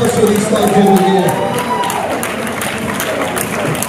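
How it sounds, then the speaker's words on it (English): Spectators at a grappling tournament clap and cheer for the jiu-jitsu fighters, with a burst of crowd applause under an announcer's voice over a PA before it fades into general hall noise. "Big round of applause for these fights over here."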